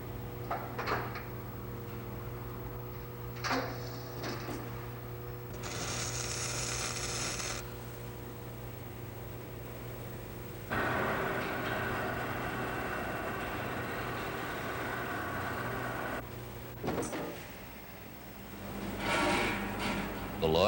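Computer-controlled spot welding machines join lugs onto rocket cases in a factory, giving bursts of mechanical clunks and buzzing weld pulses over a steady industrial hum, with a few louder sustained stretches and no talk.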